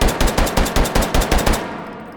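Rapid automatic fire from a G18 pistol with an extended magazine in the VR shooter H3VR: about nine sharp, close, loud shots in a fast, even burst, then a short fading tail.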